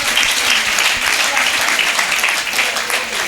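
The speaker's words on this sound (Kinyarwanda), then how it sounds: "Dukomere Yesu amashyi menshi cyane" A church congregation breaks into loud, sustained applause, a dense wall of clapping that holds steady throughout, with a few voices faintly mixed in.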